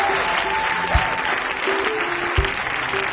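A church congregation applauds continuously, a dense wash of clapping with a few louder thumps, while a voice sings or speaks faintly underneath.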